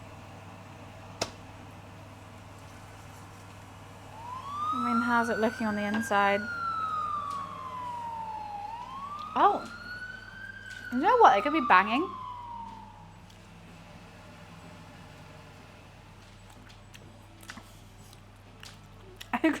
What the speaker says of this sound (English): I'm so used to hearing sirens. I heard it. I just thought it was outside.